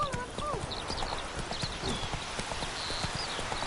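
Horse Roach's hooves clip-clop in steady rhythm in The Witcher 3, close and clear, with occasional whinny-like calls and game ambience over continuous background music.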